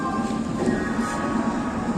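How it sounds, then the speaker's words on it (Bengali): A passenger train bound for Puri rolls along after departing, heard from inside as a steady low rumble and hum with faint rhythmic clatter. "আমাদের ট্রেন ছেড়ে দিয়েছে।"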